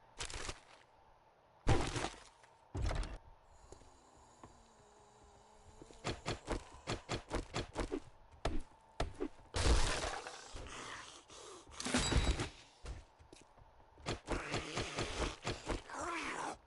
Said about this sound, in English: Someone's breaking into the house.